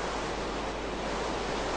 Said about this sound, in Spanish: si le doy aquí, le daríamos aquí y empieza a llover